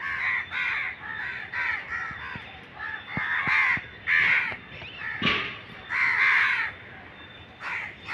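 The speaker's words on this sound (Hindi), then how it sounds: "इतने सारे एक साथ कौवा बहुत ज़्यादा है ये यहाँ पे।" A large gathering of crows in Mumbai caws repeatedly, harsh overlapping calls coming in irregular bursts, some close and loud, others farther off, with no talk over them.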